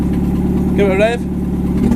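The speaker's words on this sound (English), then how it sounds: "Give it a rev." A car engine with a newly mocked-up exhaust revs once in a brief rising burst, then settles back to a steady idle rumble, close by.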